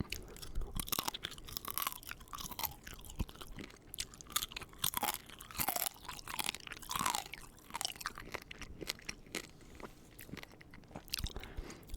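Close, crisp crunching and chewing of baked pasta with crunchy noodles, irregular bites repeating steadily with no talking.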